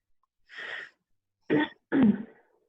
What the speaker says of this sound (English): Is that a dry cough you have there?